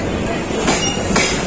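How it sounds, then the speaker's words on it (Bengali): A train pulls out of Brahmanbaria railway station in Bangladesh, heard from on board as a steady close rumble of rolling stock with brief wheel clatter over rail joints. "আমরা এখন ব্রাহ্মণবাড়িয়া রেলওয়ে স্টেশন ছেড়ে যাচ্ছি।"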